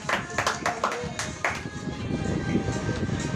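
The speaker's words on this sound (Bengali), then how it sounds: "হাততালি" Several sharp hand claps at a birthday gathering sound close by in the first second and a half, then give way to a busy background murmur.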